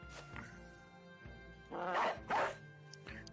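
A war dog in the medieval tactics game Battle Brothers, set in a desert campaign, gives two loud, close barks in quick succession amid quieter game sounds.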